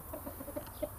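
Indian game rooster (Hint horozu) clucking in a short series of soft, evenly spaced clucks, close by against a low background hum.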